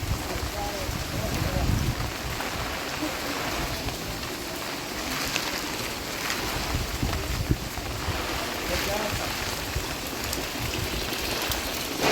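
Wind gusting outdoors during a cyclone relief tour in Ongole, a steady broadband rush and microphone buffeting that runs the whole time with voices talking faintly underneath.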